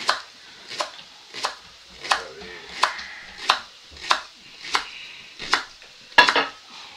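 A knife on a cutting board slices leeks into thin strips in a regular series of about ten crisp, close chopping taps, evenly spaced and isolated, with no voice over them.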